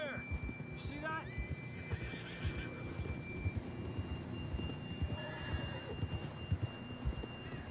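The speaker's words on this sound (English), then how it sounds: "John was riding that horse when we left Blackwater." In Red Dead Redemption 2, a horse whinnies sharply amid hoof clip-clops and game sound, the neigh standing out early before the hooves carry on at moderate volume.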